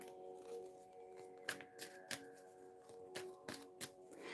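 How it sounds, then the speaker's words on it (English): Tarot cards are shuffled close up, with several crisp riffling snaps and soft papery slides spaced irregularly over a quiet room hum. "So let's get these cards shuffled here."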